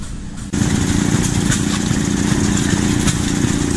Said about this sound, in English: That's an elaborate can crusher